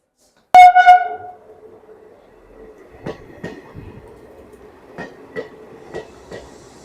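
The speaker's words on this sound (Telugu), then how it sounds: "ఇప్పుడు మల్కాజ్గిరి నుంచి ట్రైన్ అయితే బయలుదేరుతుంది" A commuter train departing Malkajgiri station in Hyderabad gives a sharp horn blast, then rumbles steadily with rhythmic clacking and periodic clunks as it rolls off.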